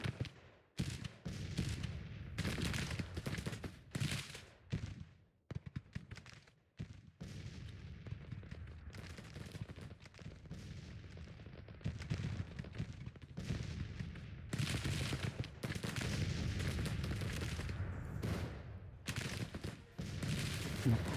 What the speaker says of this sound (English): the cannons are finally back